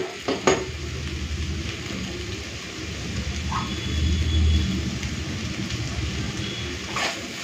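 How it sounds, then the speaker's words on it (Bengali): A spatula stirring a banana stem and prawn stir-fry in a pan with ghee, gentle scraping strokes over a steady low sizzle, with a couple of sharp clinks against the pan. "ঘিটা দিয়ে দিয়েছি, এরপরে মিশিয়ে নামিয়ে নেব।"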